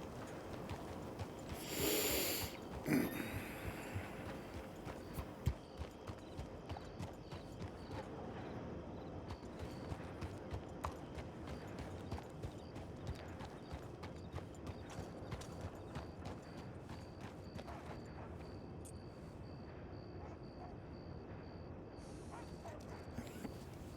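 Steady clip-clop of horse hooves in a video game at a walking pace, moderately close, with occasional creaks and a brief louder burst near the start.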